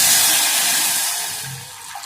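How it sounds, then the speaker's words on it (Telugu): Milk being poured into a pan for atukula payasam makes a loud, close hiss and splash that slowly fades over a couple of seconds. "ఇందులో 3 కప్పులు పాలు వేసుకోవాలండి."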